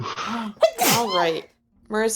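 A short sneeze bursts out between stretches of conversation, followed by more talking after a brief pause.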